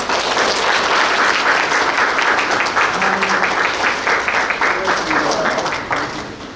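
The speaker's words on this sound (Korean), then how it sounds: "박수 부탁드리겠습니다." Applause from attendees at a county education-agreement signing ceremony, a full, continuous roar of many clapping hands with murmured voices underneath, fading slightly near the end.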